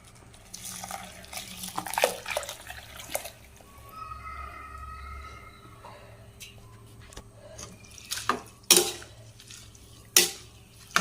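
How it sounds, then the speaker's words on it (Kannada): About a cup of water poured into a pot of spinach, mushroom and coconut milk pulao: a short splashing pour followed by scattered clinks of a utensil against the pot, with no talking. "ನೆಕ್ಸ್ಟ್ ಸುಮಾರು 1 ಕಪ್ ಅಷ್ಟು ನೀರು ಹಾಕ್ತಾ ಇದ್ದೇನೆ, ಸಾಕು."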